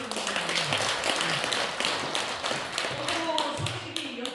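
Applause rises at a Korean Buddhist-style celebration gathering, a dense, steady patter of many hands clapping at close range for several seconds without a break.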